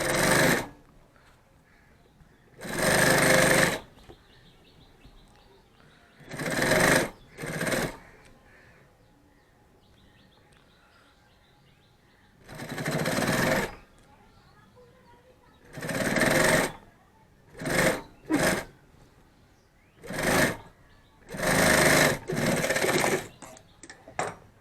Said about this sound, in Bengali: সেলাই হচ্ছে।